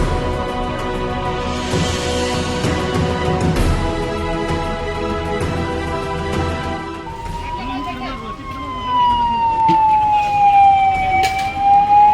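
Fire engine siren wailing as the truck arrives at a burning scrap godown, rising and falling loudly over steady traffic and crowd noise, with a second siren tone sweeping down near the end.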